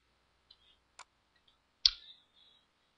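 Computer mouse clicks, a few sharp isolated clicks spaced irregularly against near silence, with one louder click standing out.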